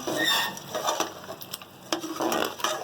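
A spoon stirs ginger, garlic and chilies sizzling in a karahi for a Peshawari lamb karahi, with close, rhythmic scraping and clinking of metal over a steady frying hiss.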